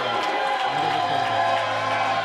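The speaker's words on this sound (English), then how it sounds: "Listen to that crowd." A wrestling crowd cheers during Spider Nate Webb's ring entrance at a live pro wrestling show in Indianapolis, a dense, steady roar of voices and whoops that stays loud throughout.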